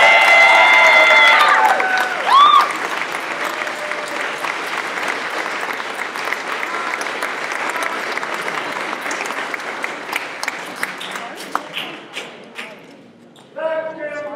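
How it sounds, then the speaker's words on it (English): Sustained applause from a crowd at a state capitol press conference fills the room, loud and dense, with scattered cheers and whistles early on. The clapping tapers slightly toward the end before a fresh burst. "Let's give him a big round of applause."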